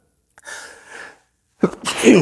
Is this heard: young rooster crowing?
no